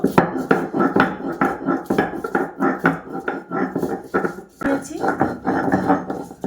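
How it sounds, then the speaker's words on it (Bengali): Ginger is ground by hand on a stone shil slab, a steady run of rhythmic scraping and knocking strokes, close and fairly loud, with a short pause near the end. "প্রথমে আমি আদাগুলো বেটে নেব।"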